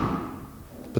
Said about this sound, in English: a very interesting, unique door closing sound for the rear doors